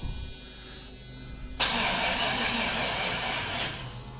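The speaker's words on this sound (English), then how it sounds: "Everything cranks over. Just waiting for some fuel for it to fire." An LS V8 engine swapped into a Squarebody truck cranks over on a weak battery without firing, a steady close whirring drone that suddenly grows louder and harsher partway through and holds for several seconds.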